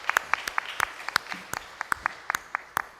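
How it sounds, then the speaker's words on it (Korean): Congregation clapping during a Sunday morning church service: sparse, separate sharp claps in an uneven rhythm, moderately near, with no talking over them. "우리 하나님께 영광의 박수를 돌려드리겠습니다."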